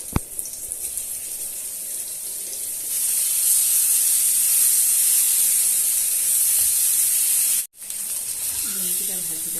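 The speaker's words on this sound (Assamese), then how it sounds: "ইয়াতে ডিমকেইটা প্ৰথমে ভাজি লৈছোঁ" Eggs fry in a little oil in a wok, a bright, close hiss that swells loudly after a few seconds and keeps going, cut by one brief dropout near the end.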